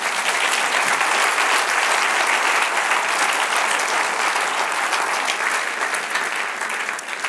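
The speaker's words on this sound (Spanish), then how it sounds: "Dar un aplauso al Señor." Sustained applause from a sizable church congregation, dense and steady clapping that stays loud throughout before easing slightly at the end.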